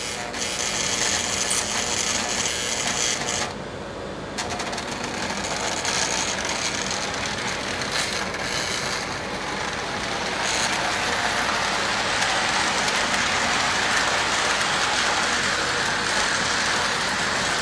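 Older O scale model locomotive running steadily on its track, a continuous mechanical whirring and clicking with rail clatter, fairly close and unbroken, with no talking.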